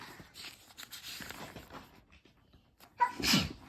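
A single sharp sneeze bursts out near the end after a stretch of quiet, low rustling background sounds.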